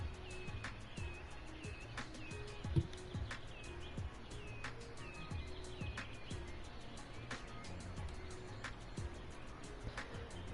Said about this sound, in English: Enjoy the birds singing.